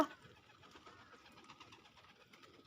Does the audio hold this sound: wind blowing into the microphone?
no